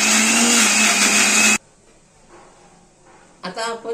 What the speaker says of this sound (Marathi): आता आपण हे मिक्सर मध्ये दळून घेऊया।